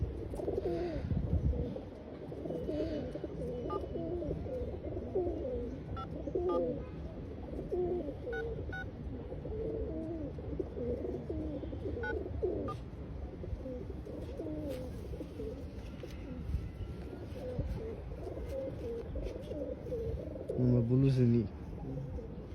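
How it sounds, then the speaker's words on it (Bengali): A baby pigeon coos over and over in soft, low, throaty bursts, close by and fairly faint, with a louder burst of calls near the end. "যাক কবুতর, বাচ্চা কবুতর"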